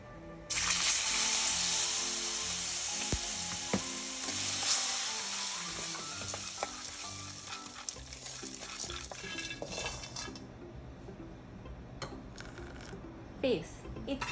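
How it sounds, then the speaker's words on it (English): Pumpkin pieces sizzle in oil in a pan over low heat while being stirred and mixed with salt, pepper and soy sauce, steady frying hiss with scattered clinks and scrapes of a utensil. "fry in oil so that the low heat goes through"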